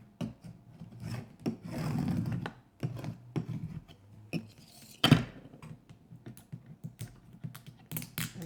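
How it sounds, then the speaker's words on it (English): A transfer tape decal for Christmas decor being burnished, heard as close, dry rubbing and scraping strokes in short bursts with brief pauses, one longer steady rub and a sharper scrape midway. "Just burnish it a little bit to make sure it's stuck."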